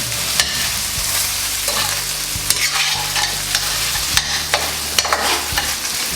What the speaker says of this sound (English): And now the pork chops are already lightly fried.